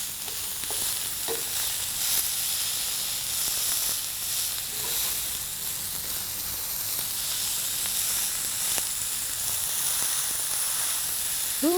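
A steak sizzles steadily in a hot frying pan as it is flipped, a constant bright hiss of frying fat with faint scraping and small pops, close and continuous with no voices.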